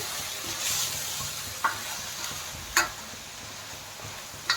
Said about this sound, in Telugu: మనం వంకాయలు కూడా వేసుకొని కలుపుకోవాలి బాగా